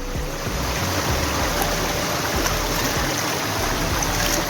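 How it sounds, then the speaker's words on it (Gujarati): Water flows down from a mountain spring near the Jatashankar Mahadev temple in Junagadh, a dense, steady rushing wash with low rumble, loud and close throughout with no talk. "ફૂલ ભાઈ ઉપરથી પાણી આવે જો ઝરનું"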